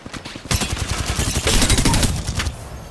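Rapid bursts of video game gunfire ring out at a shooting range against bots, loud and close, with dense overlapping shots in quick succession that barely pause throughout.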